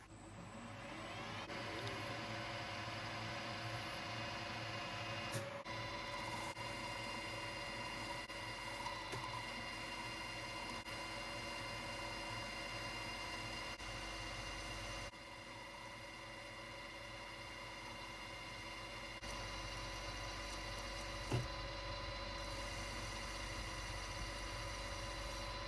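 A lathe machines a recess into a new shaft for a Kawasaki S1 550 frame repair, producing a faint, steady mechanical hum with a low drone and high whine that runs unbroken, with a couple of brief shifts in tone.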